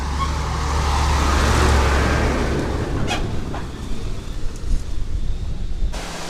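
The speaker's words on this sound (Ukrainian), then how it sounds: "а це вже їде четверта машина за півгодини" A logging truck passes on a Carpathian mountain forest road, a loud broad roar swelling near and then fading, with wind buffeting the microphone and no voices.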